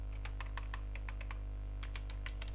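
Keys clatter on a computer keyboard as a command is typed, a quiet run of crisp, irregular taps in two short bursts over a steady low electrical hum.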